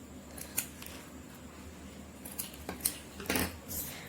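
Scissors snip through folded newspaper in a few sharp, separate cuts over a steady background hiss, the last cut longer and louder.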